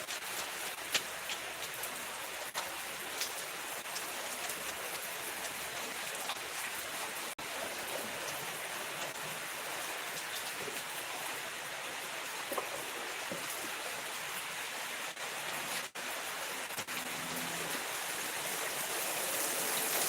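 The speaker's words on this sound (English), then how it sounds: "it is pouring down rain right now" Heavy rain pours down in a dense, unbroken hiss, steady and loud throughout, with occasional faint knocks nearby.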